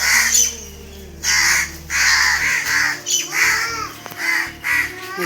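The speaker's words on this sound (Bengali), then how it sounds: "দেখো আমি আসার পরে কাকগুলা কাক কাক করে যাচ্ছে।" Crows keep cawing near a house where a dead crow lies, several loud, close harsh calls in quick succession with no talk.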